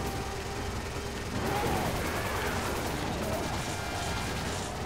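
Gunfire rings out in the Resident Evil 5 video game as a boss is shot, a dense, continuous wash of shots and explosions layered under game sound effects.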